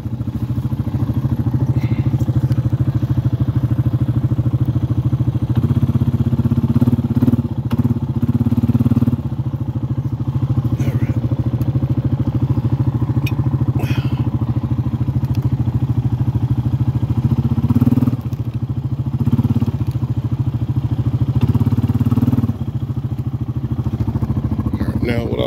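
A four-wheeler ATV engine idles and runs steadily with a low, continuous rumble and some clatter, fairly close and sustained for the whole stretch.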